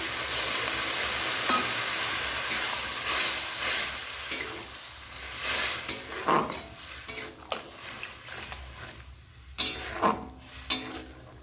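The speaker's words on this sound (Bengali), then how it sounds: "কষানো হয়ে গেছে, তো এখানে দিয়ে দিচ্ছি জল পরিমাণ মতন" Water poured into a pan of frying small crab, fig and potato curry; soft sizzling and bubbling with a spoon stirring and scraping against the pot, occasional clinks of utensils.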